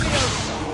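A Protego shield spell cast in the video game Hogwarts Legacy: a single dense whooshing burst of magical energy that holds loud and steady for under a second, with no talk over it.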